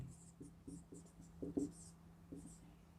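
A pen or chalk scratches out notes during a Hindi-language English lesson, faint short strokes in uneven bursts over a low electrical hum.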